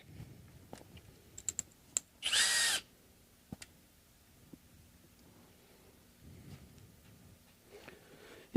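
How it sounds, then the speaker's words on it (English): A power tool drives screws in one short whirring burst, surrounded by scattered clicks and taps in an otherwise quiet room, during work on a bass guitar. "I can use my power tool"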